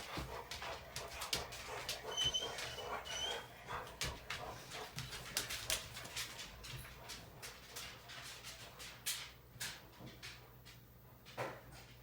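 Dogs panting, whimpering and gnawing on a bone nearby, with soft yips and irregular chewing clicks over a steady low hum, with no talk.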